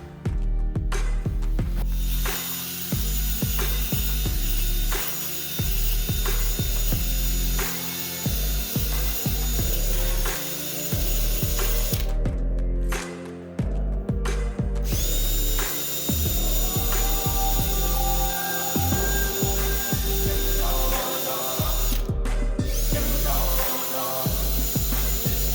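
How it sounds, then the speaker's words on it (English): A cordless drill cleans carbon buildup off a Dodge engine block: continuous loud mechanical whirring with grinding, scraping contact, steady throughout with a few brief pauses, close by and no talking. "If your drill starts sounding whining, go ahead and put a fresh battery in."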